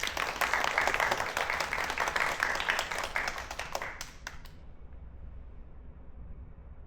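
Audience applause welcoming the judge at a staged play reading in a theatre, dense loud clapping from a crowd that fades away after about four seconds, leaving quiet room tone.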